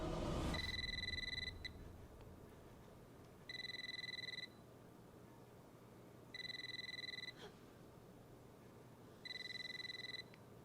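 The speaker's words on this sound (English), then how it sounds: "Ringing phone." Telephone ringing in the video game Eternal Darkness: Sanity's Requiem, a synthetic two-tone ring repeating four times in even bursts with pauses between, steady and clear over a low ambient drone.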